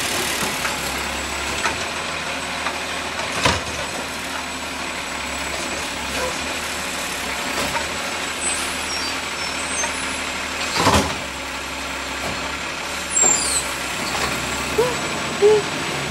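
A green garbage truck's diesel engine runs steadily at close range, a constant low rumble with a few brief bangs and hiss-like bursts over it, and no talk.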